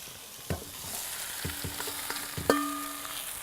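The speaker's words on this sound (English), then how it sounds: "There, we got the sizzle." Food hitting a preheated cast iron pan over a wood fire, first with a few sharp contact clicks, then a loud burst of sizzling hiss that settles into steady frying crackle.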